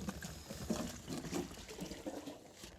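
Water trickles and splashes from a hose into a portable RV waste tote tank, a soft, close, uneven liquid patter with no talking.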